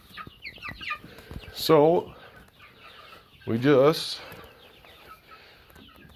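Hens clucking and squawking inside a crowded poultry tent with new bedding; two loud, sharp calls stand out over steady lower clucking and someone talking.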